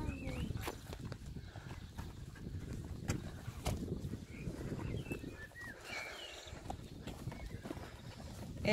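Farm horses walking single file along a worn dirt track, their hooves giving soft, irregular clip-clops at a moderate distance while birds chirp faintly in the background.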